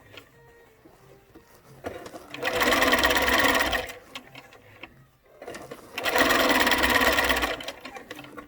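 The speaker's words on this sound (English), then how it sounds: "I'm going to just sew a seam down." A sewing machine stitches a seam on a fabric face mask in two loud, steady bursts of rapid mechanical whirring, separated by a quiet pause with faint handling noises.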